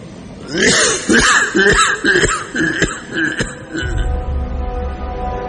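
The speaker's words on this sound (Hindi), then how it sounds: "एक बड़ी जानी पहचानी सी खांसी की आवाज उसे सुनाई दी" A person coughs and snickers repeatedly in close, harsh bursts, followed by a low rumbling background.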